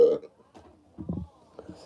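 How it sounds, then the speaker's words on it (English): A low, guttural burp rumbles up briefly amid soft vocal sounds, close to the microphone and moderately loud. "Sorry, guys, had a burp."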